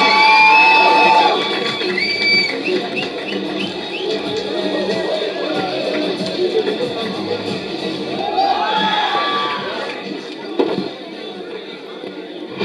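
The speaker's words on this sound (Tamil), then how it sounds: "இன்னொரு நல்ல கைத்தட்டல் கொடுக்கலாமே ப்ளீஸ்." A crowd at a film first-look launch cheers and shouts continuously, the noise holding steady with scattered whoops and a sharper burst near the end, and some talk mixed in.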